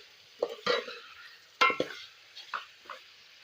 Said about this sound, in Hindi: अब हम इनके अंदर कीमा ऐड करेंगे और अच्छी तरह मिक्स करेंगे।